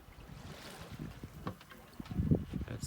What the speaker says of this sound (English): Finally getting a little bit of sailing off of Cape Caution.